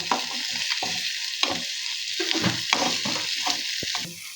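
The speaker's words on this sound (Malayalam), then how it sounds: "എന്നിട്ട് നമുക്ക് നന്നായിട്ടൊന്ന് ഇളക്കി കൊടുക്കാം" Bitter gourd stir-fry with chilli flakes and salt sizzling in a pan, a dense close hiss broken by a quick run of spoon scrapes and clinks as it is tossed.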